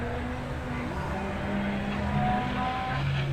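An Audi hillclimb race car crossing the finish line, a sustained engine note with shifting tones as it passes, moderately loud amid crowd and outdoor noise.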